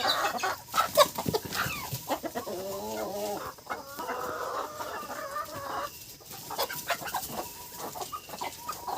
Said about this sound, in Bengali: এই দেখুন এই লাল মোরগ, পুরো মোরগটা পুরো একদম লাল